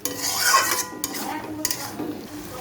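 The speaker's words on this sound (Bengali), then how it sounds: "মশলাটা ভালো করে কষে নেব" Turmeric and spices being sautéed in a pan, with close scraping and stirring strokes of a utensil against the metal and soft clinks, a faint sizzle underneath.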